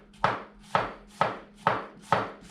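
A knife slices an onion thinly on a cutting board, five crisp evenly spaced chops, close and loud.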